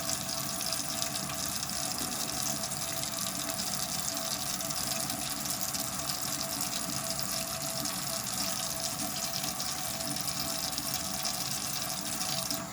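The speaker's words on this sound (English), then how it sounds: "I'm just using warm water to kind of loosen it up." Water runs steadily from a tap with a constant, close hiss and splash, unbroken throughout and with no voices.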